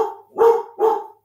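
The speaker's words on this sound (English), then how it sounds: "There's Chelsea, the big dog, not the puppies." A big dog barks nearby, a few deep, loud woofs in quick succession with a short gap between them.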